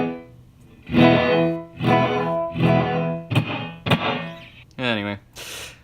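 Electric guitar played through a Keeley Abbey Chamber Verb reverb pedal with decay set to maximum: a series of distorted chords and notes, each swelling into a long, washy tail that blurs into the next, no talking.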